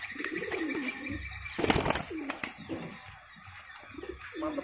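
Cicit rampok birds give repeated cooing, warbling calls with a brief burst of flapping or rustling in the middle, close and moderately loud, with low voices talking between calls.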